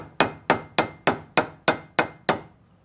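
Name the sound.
hammer tapping in a golf cart king pin bushing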